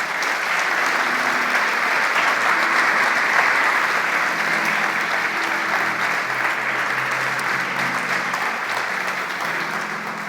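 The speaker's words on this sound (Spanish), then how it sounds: "Le damos un aplauso a Él" Church congregation applauding during a Spanish-language Christian sermon, a steady, dense wash of clapping that holds for about ten seconds, with a few faint voices murmuring beneath it.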